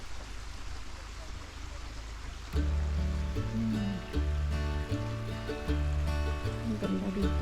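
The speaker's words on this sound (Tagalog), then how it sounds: "Ayan yung tubig." Water flows near Henry's Island at Thorp Perrow Arboretum as a steady, moderate broadband rush. After about two and a half seconds, music with distinct tonal notes comes in and largely covers the water.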